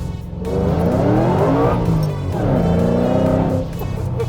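An 870 hp Ford Mustang GT500 spins its tires in second gear, a loud engine roar rising with pitch-sweeping tire squeal in two surging bursts close by.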